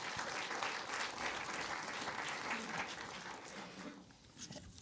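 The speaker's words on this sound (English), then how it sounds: "So let's give them a round of applause as we begin." Audience applause for the panelists at a budget transparency event in Washington, D.C., a steady, dense clapping from a full room that holds for several seconds and then thins out near the end.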